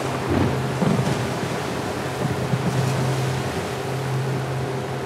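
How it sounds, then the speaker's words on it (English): Open-sea waves in The Last of Us Part 2 Remastered, a continuous roaring wash of surf with deep rumbling swells and a low engine-like hum underneath, loud and steady. "we're in the open, open sea here. That's a big wave."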